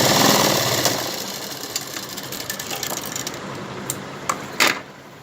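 Sewing machine stitching a blouse sleeve, a fast, even mechanical whir of needle strokes running close and loud, easing and slowing toward the end with a few clicks.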